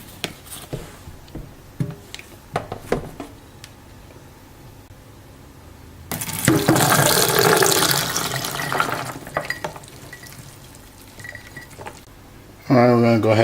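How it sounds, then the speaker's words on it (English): Tap water runs loudly over dried beans being washed for Jamaican rice and peas, a steady broad rush lasting several seconds after quieter handling noises, then a brief burst near the end. "Alright, let's wash out our beans."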